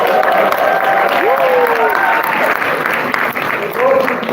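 Applause from a convention crowd for a young man, a broad steady wash of clapping filling the room, with voices talking and calling out over it throughout.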